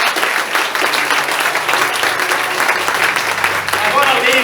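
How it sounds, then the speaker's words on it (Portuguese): Church congregation clapping, a loud dense patter of many hands that fills the room continuously, with voices mixed in underneath. "dê uma salva de palmas para Jesus"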